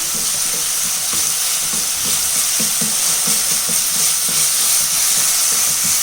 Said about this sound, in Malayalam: ഇതിൻ്റെ കൂടെ നമുക്ക് 1 സ്പൂൺ നിറയെ ഇഞ്ചി വെളുത്തുള്ളി പേസ്റ്റ് ചേർത്ത് കൊടുക്കാം. നല്ലതുപോലെ ഇളക്കി മിക്സ് ചെയ്യാം.